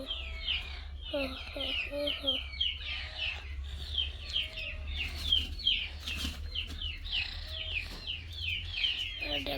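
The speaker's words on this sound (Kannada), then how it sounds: "ಇಲ್ಲಿ ನೋಡಿ ಕೋಳಿ" Native village chickens cluck and chirp repeatedly nearby, short busy calls over a low steady hum, with a voice briefly talking in the background.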